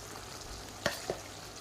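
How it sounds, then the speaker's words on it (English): Yogurt being stirred into chicken karahi, a faint low sizzle with two brief spoon clinks against the pot, quiet and close, no talking. "And then just stir that in."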